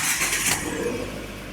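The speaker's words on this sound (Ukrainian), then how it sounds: "Зараз заводимо автомобіль." The engine of a 2013 Fiat 500L 1.4 Turbo Multijet diesel cranks briefly and catches, settling into a steady idle close by.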